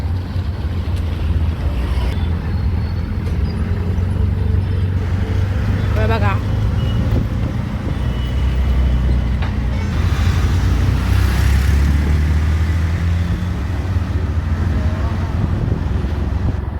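Riding in an auto rickshaw between Koparkhairane and Ghansoli: a steady low engine drone and road rumble with wind buffeting the microphone, continuous and close, while a voice talks over it throughout.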